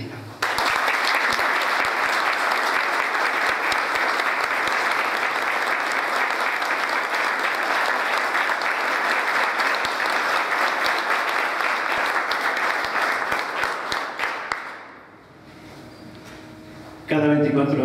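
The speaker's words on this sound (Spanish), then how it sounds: "pido un minuto de aplausos" Sustained applause from a crowd at a Day of Remembrance ceremony held for 24 March, dense and steady for about fifteen seconds before it thins out and stops, with a brief louder burst near the end.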